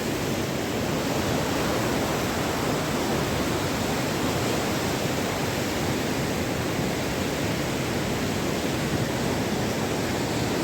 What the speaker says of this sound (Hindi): टोंस नदी का बहाव है बहुत ही तेज़, और जो अंदर पत्थर हैं उनके आपस में टकराने की भी आवाज़